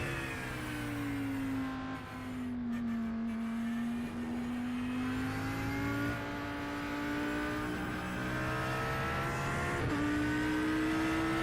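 Audi race car in the iRacing sim, its engine a loud sustained drone that dips and climbs with throttle, with a sharp upshift near the end and no voices.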